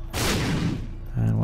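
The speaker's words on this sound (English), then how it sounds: "Let's put a bomb there, just have a check." A bomb goes off beside tinted rocks in The Binding of Isaac, giving a single loud, boomy blast that rumbles and decays, followed by a low sustained game tone.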